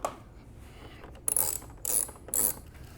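Ratchet snugging bolts into a plastic Harley batwing fairing, three short bursts of quick clicking close by, separated by brief pauses in a quiet room.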